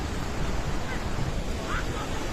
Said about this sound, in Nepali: खोला हेर्नु गाइस खोला